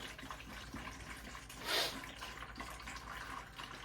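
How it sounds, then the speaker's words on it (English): Water draining steadily from hoses into a bucket during a flush of a Navien tankless water heater, a continuous low running trickle with a brief louder splash midway. "we'll let these hoses drain down into the bottom of here, and you can hear it running down in there"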